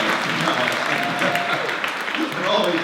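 A studio audience at an interview keeps up a steady, dense applause, close and even in loudness, with voices talking over the clapping.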